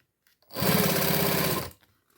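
A sewing machine runs a single continuous burst of stitching, backstitching at the start of a seam on a plastic magazine folder with leatherette edging. The motor hums steadily for about a second before stopping.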